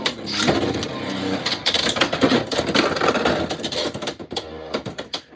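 Valkyrie Volt and a rival Beyblade top clashing in a stadium, a loud rapid rattle of grinding and clicking hits that goes on for several seconds, with voices in the background.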